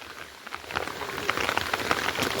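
Heavy monsoon rain pours steadily at a Konkan waterfall, a dense continuous patter close by, with no talk.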